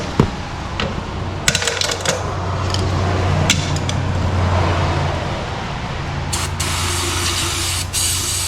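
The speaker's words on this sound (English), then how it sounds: "Gonna need a bunch of brake cleaner on this one." Aerosol brake cleaner hisses in several bursts onto a Roxor front differential, short sharp sprays early on and a longer loud spray near the end, over a low rumbling background hum.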